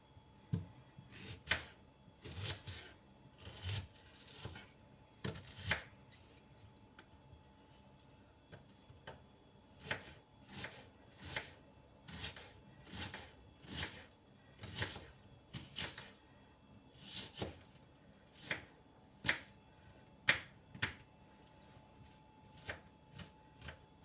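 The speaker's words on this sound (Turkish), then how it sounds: "Şimdi soğanlarımı doğrayacağım." A knife chops onions on a cutting board in quick, uneven taps, bursts of crisp strikes separated by brief pauses, close and fairly quiet.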